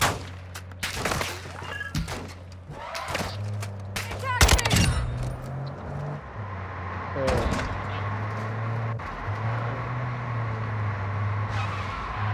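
Video game gunfire crackles in rapid bursts and single shots over a droning car engine, loud and close at first and then thinning out, with a voice speaking in between.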